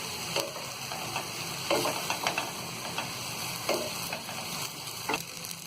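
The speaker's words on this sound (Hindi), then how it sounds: "तो हम ये 2 स्पूनों का सहारा लेके इसे अच्छी तरह मिक्स करेंगे इस तरह।" Vegetable noodles are tossed and mixed in a pan with two spoons, producing a low continuous sizzle punctuated by light, irregular clicks and scrapes of the spoons against the pan, close and fairly quiet.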